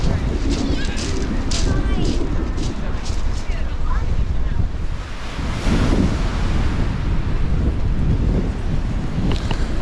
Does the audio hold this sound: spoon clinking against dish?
no